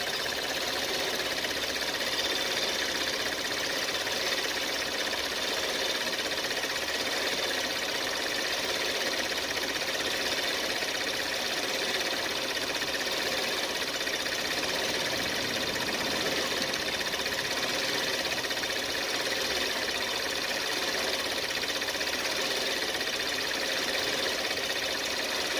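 A car engine idling with a cooling issue, waiting for the cooling fans to switch on, a steady mechanical hum and whir that stays constant throughout at moderate level, with no talking.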